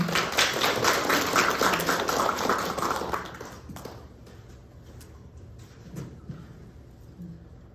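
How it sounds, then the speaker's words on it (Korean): Audience clapping at a Korean community leadership conference in Dallas as a speaker is welcomed, a loud dense burst for about three seconds that then thins to scattered claps. "이경원님을 박수로 맞이하겠습니다."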